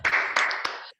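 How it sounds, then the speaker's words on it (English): Online participants in a video call clap through unmuted microphones, a short burst of a few claps in quick succession, close and clear, ending abruptly in silence. "please unmute your microphone and give him a thumping round of applause"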